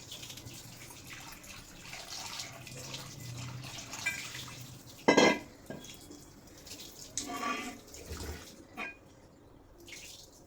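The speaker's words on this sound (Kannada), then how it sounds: "ಮತ್ತೆ ಅದೇ ಥರ ನನಗೆ ಹೆಚ್ಚಿಗಿರೋ ನೀರಲ್ಲಿ ಇದನ್ನು ತೊಳ್ಕೊತಾ ಇದ್ದೀನಿ." A cast iron tawa is rinsed and scrubbed in water, with faint splashing and sloshing, a sharper splash midway, and quiet dripping throughout, no voices.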